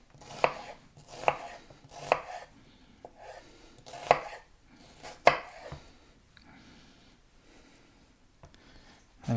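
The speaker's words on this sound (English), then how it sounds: "Now there's several ways of cutting onions." A knife chopping onions on a cutting board, a handful of sharp separate knocks at an uneven pace, close but quiet, with soft handling sounds between strokes.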